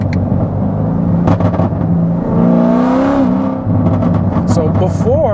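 A 900hp C7 Corvette ZR1 accelerating hard, its engine note climbing in pitch and dropping at an automatic upshift before pulling again, loud and close with someone talking over the engine.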